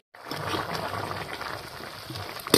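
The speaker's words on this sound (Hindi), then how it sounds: "अभी हम लोग पानी डालेंगे ना जी" Water is poured into a pot of broiler chicken curry cooking in a village kitchen, a continuous splashing gush starting abruptly and running steadily close by, ending with a sharper clatter.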